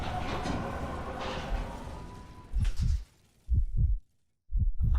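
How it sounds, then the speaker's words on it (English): In the horror game Layers of Fear, a low, rumbling tone fades out, then a loud heartbeat thumps in double beats, three heavy lub-dub pairs separated by near silence. "Heartbeats."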